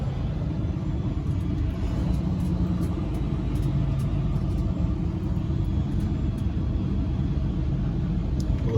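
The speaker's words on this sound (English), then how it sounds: "they're having a little car meet over there" Cars at an informal car meet give off a steady, heavy low rumble of idling engines, constant and fairly loud throughout with no voices.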